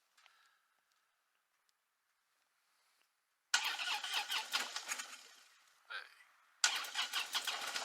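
A motorbike engine cranks and catches twice after near silence, each time turning into a loud, rough, sputtering run with a brief revving whine between the two starts.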